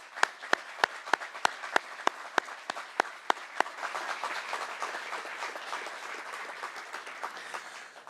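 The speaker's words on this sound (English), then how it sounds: "give them a round of applause" Applause from the audience at a governor's bill signing ceremony in St. Louis, beginning with a few loud, evenly spaced individual claps that swell into dense, sustained clapping from the crowd.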